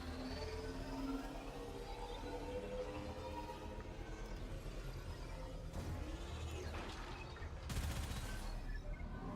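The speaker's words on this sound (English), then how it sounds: "Hit it with the forward artillery." Forward artillery fires in a sci-fi video game battle against a cloaked target, a faint, continuous rumble of rapid bursts with a sharper volley near the end, low in the mix.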